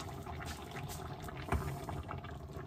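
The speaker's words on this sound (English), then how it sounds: "it's bubbling away frantically" A pot of rice bubbles and simmers at a rolling boil, a busy, close-up gurgling with one sharper pop midway.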